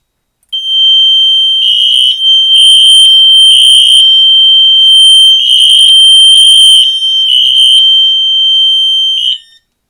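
A smoke detector's loud, shrill electronic alarm blares close by in repeated pulsing bursts, with brief gaps between groups, then cuts off.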